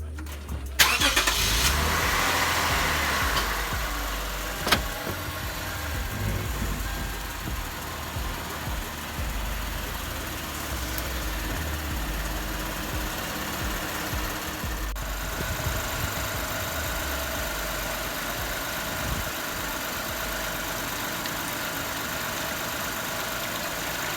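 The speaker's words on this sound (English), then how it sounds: "We're gonna take the car off the ramp and start it for a couple minutes" A 2006-2011 Lexus GS300/GS350 engine cranks and starts with a short burst, then settles into a steady, smooth idle that hums on nearby for the rest of the stretch.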